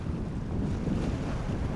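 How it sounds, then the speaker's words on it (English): Moving water rushes beneath a giant bridge at a fishing spot, a steady broadband wash of waves and wind noise, continuous and fairly loud with no voices. "I'm loving this moving water."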